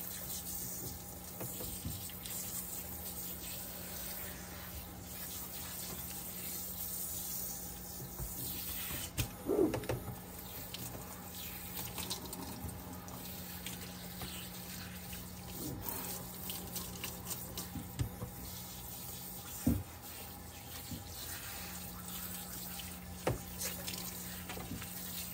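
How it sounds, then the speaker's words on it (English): Running water rinses a pet's coat during grooming, a soft continuous tap-like flow with occasional splashes and knocks, quiet and without talk. "So you just want to rinse until it runs clear."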